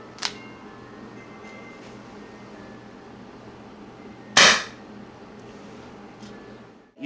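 A silver WinGun M702 CO2 airsoft revolver fires two sharp, loud shots several seconds apart. Each crack rings briefly against a quiet room, with a few faint clicks between them.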